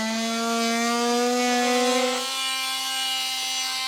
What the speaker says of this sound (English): So I'll be using an oscillating tool.